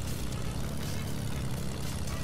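Propeller airplane droning steadily in the Fortnite video game, a constant broadband engine hum with strong low rumble, continuous and fairly close throughout with no talking.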